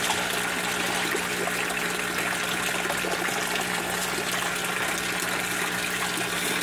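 Fish feed tossed by hand into a tilapia pond, giving a steady close watery splashing and trickling that runs continuously without any talk.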